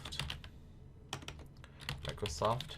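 Brisk typing on a computer keyboard, with rapid close key clicks running through the moment and a faint voice murmuring briefly underneath near the end.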